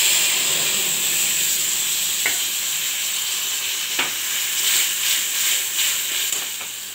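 Spice paste fries steadily in a pan for a potato and pointed gourd (potol aloo) curry, a constant bright sizzle broken by a few sharp scrapes of stirring.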